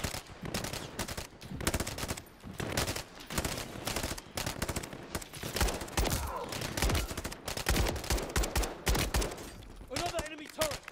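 Enemy turret fire in Call of Duty: Modern Warfare III rattles in fast, continuous automatic bursts, loud and dense throughout, with a voice briefly speaking near the end.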